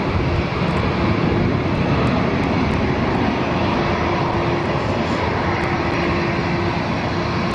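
Singapore Airlines Airbus A350-900 departing Barcelona, a steady, dense jet roar with a faint sustained whine, continuous throughout with no voices over it.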